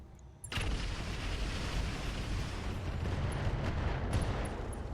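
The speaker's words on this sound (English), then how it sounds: "The Trebuchet is going to continue to fire on the Apollo." A Trebuchet mech in the RogueTech battle game opens fire on an Apollo mech: a sudden loud blast at the start followed by a sustained roaring rumble of continued fire, with no voices.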